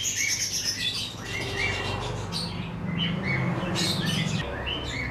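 Pigeons in a breeding loft, including a red male and a hen said to lay early, give a steady stream of close chirps and calls throughout, with some rustling movement underneath.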